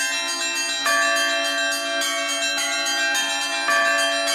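Church bells rung by a bell ringer in a Russian bell tower, a dense, sustained peal of overlapping tones with fresh strikes landing every second or so, loud and close with no talk.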